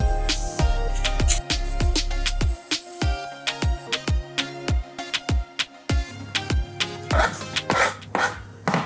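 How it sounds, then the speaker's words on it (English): British baking potatoes are peeled and cut roughly on a board, a series of sharp knife chops landing in a loose rhythm, close and distinct, with no talk. "I just peel them and I cut them roughly to something like that"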